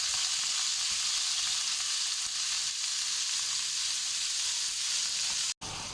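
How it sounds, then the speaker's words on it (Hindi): Half a kilo of chicken mince sautéed in a pan, a dense, steady close sizzle with occasional stirring, broken by a brief cut near the end. "हाफ के जी चिकन का कीमा ऐड करेंगे। कीमे का कलर चेंज होने तक इसको अच्छी तरह भून लेंगे हम।"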